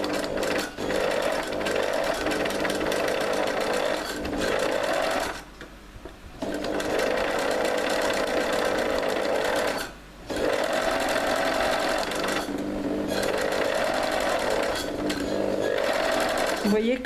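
A sewing machine runs in long steady bursts while stitching red cuff fabric, with loud continuous whirring broken by two short pauses, and a voice is heard over it.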